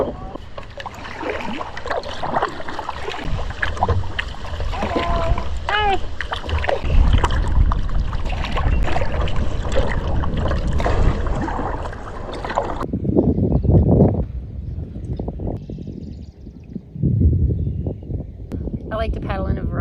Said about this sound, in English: so let's get paddling